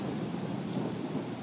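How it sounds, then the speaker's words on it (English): Heavy rain pours down in a steady, dense roar with a low rumble beneath, continuous and loud throughout. "there's a downpour going on"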